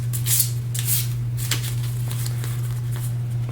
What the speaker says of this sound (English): go ahead and give these a good shuffle.